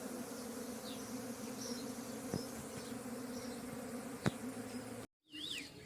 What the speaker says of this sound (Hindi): यहाँ पे धीरे धीरे देखो सब मधुमक्खी इकट्ठा हो गई है यहाँ पे